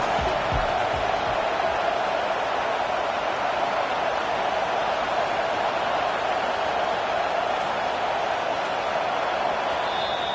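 Home crowd at a college football game roars steadily from start to finish, a dense, sustained wall of cheering with no break or quiet moment.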